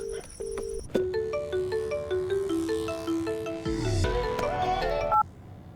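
A mobile phone ringtone plays loud and close: a repeating electronic melody of clear tones, steady for about five seconds before cutting off abruptly, with no one talking over it.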